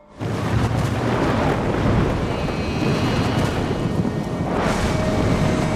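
A violent tropical thunderstorm rumbles in a long, heavy roll of thunder that fills the whole stretch, loud and continuous with a crackling, rain-like wash on top.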